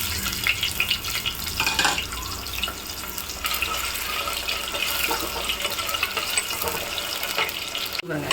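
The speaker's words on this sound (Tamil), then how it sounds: "இந்த 2 உருளைக்கிழங்கு இந்த எண்ணெயில் வறுத்துக்கலாம்." Two cut potatoes frying in hot oil, a continuous crackling sizzle with some watery, splashy texture and occasional stirring scrapes, moderately loud throughout with no speech.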